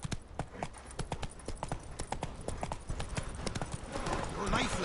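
Roach, a horse in The Witcher 3, gallops with rapid, rhythmic hoofbeats on the ground, close and steady throughout, while voices talk over it.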